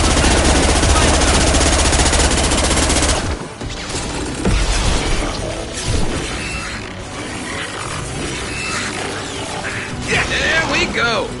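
Gunfire in Mass Effect 2 crackles as a dense, loud burst of mechanical rattling shots, then scattered impacts, shattering and clattering effects continue amid combat noise, with voices heard in the mix.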